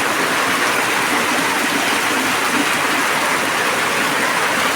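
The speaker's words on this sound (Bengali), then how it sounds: "আর এখন দেখেন অনেক বৃষ্টি নামতেছে" Heavy rain pouring down on a rural home, a loud, dense and unbroken rushing wash that stays even from start to finish, with no voices.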